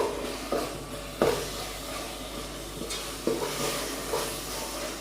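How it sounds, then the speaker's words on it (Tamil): Masala sautéing in hot oil for a Tamil-style egg gravy, a steady close sizzle broken by several sharp scrapes of a spoon stirring against the pan. "இது பச்சை வாசனை போகிற வரைக்கும் ஒரு 2-3 நிமிஷம் நல்லா வதங்கட்டும்"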